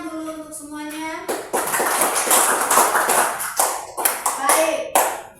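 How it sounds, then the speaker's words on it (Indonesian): Children in a classroom clap together in a burst of a few seconds of loud, dense handclaps, with a teacher's voice speaking just before and briefly between. "tepuk tangan dulu untuk semuanya"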